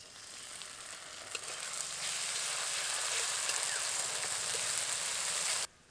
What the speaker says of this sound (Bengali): এবার এর মধ্যে দিয়ে দেবো আদা রসুন বাটা, আর এরই সাথে দিয়ে দেবো জিরে, ধনা, শুকনো লঙ্কা বাটা।